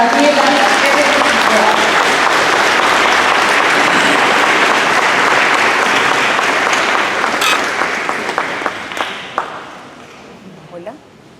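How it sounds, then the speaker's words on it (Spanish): An audience at a talk on the gospels applauds loudly and continuously, the clapping sustained for several seconds before tapering off to a few scattered claps. "Recibamos con el cariño, con el aplauso, con el amor de hermanos"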